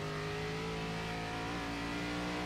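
A NASCAR stock car engine in iRacing at the Nashville Fairgrounds, heard from the roll bar in an All Star Race, revs loud and close, its pitch rising and falling smoothly as the throttle eases on and off.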